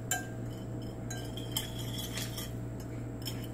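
Soft metallic clinks and taps of a whisk mashing olives against a bowl, irregular and faint over a low steady hum, with no talking.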